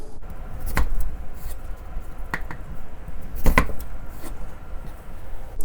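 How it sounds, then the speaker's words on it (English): A knife cuts radish into thick slices and then quarters on a board, a few sharp, sparse chops spaced irregularly against a quiet kitchen background, with no talking. "Take the radish, cut about this thick, and then in quarters."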